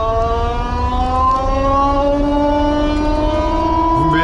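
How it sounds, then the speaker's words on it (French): The DS X E-Tense concept car's electric drive gives off a loud, steady whine that rises in pitch as it accelerates, heard close up with almost no talking. "Oh, le bruit qu'elle fait. C'est un moteur de Formula I dedans."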